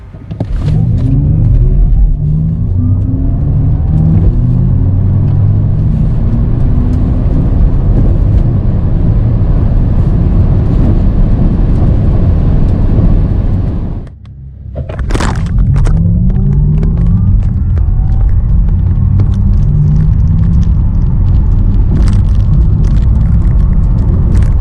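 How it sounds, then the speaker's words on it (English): An Audi RS e-tron GT electric car accelerating hard on an airfield: a loud, sustained rumbling roar with rising whine that cuts briefly, then resumes at full strength, no talking. "look how fast the RS is capable of reaching 100 and 200 km an hour"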